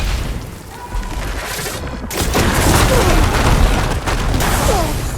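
Heavy booming explosions and gunfire from the video game Horizon Forbidden West, made up of dense, rumbling blasts that keep going without a break under a busy battle mix.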